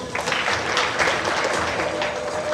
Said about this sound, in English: Mr. Harun Hassan, another big round of applause.